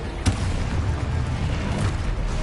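An Expulso spell explosion in the video game Hogwarts Legacy, a sharp burst early on that rolls into a loud, continuous low rumbling boom, with no voices over it.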